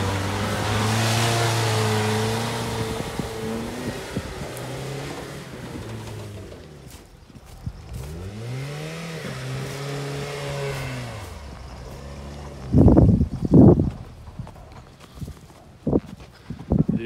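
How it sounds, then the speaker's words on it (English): A Ford truck doing a burnout in mud, its engine revving in a long, loud, rising and falling drone over tire spin, then easing off before several sharp bursts near the end. "Old burnout pad has now moved here"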